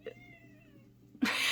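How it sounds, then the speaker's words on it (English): A pet cat gives a single drawn-out meow, fairly faint and close, then a sharp louder noise cuts in at the end, with no talking. "Sorry, that was my cat."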